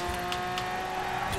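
Mosler race car in Forza Horizon 4 driving fast through a corner, a steady, sustained engine drone with a constant whine and occasional brief tire noise, continuous and fairly loud with no talking.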